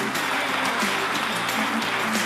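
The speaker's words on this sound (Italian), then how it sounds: "un applauso anche alla nostra squadra" Steady applause from a small crowd, a dense even patter of clapping that holds at the same level throughout.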